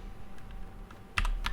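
A few scattered keystrokes on a computer keyboard, faint at first and then a sharper cluster of clacks near the end, with no talk.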